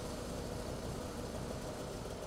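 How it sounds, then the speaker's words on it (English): A Polaris Titan Adventure snowmobile engine idles during a pre-ride inspection, a loud, steady low rumble with a constant vibrating drone and no change in pace. "start the engine"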